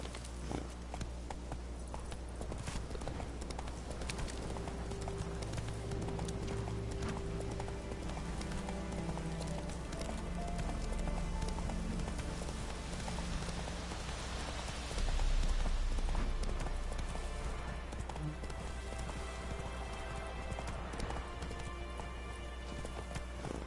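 The horse Roach gallops in The Witcher 3 with rhythmic clip-clop hoofbeats under a steady bed of rain and ambient game sound, at moderate volume, with no voices.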